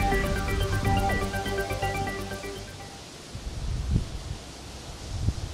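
Gusty wind in Baguio City during Typhoon Nando, a broad roaring rush that swells in uneven surges, peaking around the middle and end, with a faint tonal jingle fading out early on.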